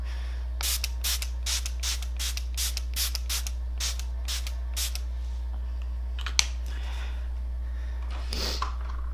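Makeup Forever Mist and Fix setting spray is pumped onto a face in a rapid series of short, close, crisp hissing spritzes, with a couple of softer sprays after a pause and a constant low hum underneath.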